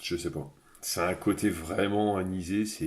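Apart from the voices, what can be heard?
No everyday noise stands out behind the speech.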